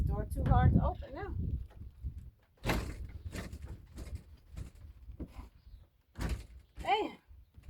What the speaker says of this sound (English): this door too hard to open now.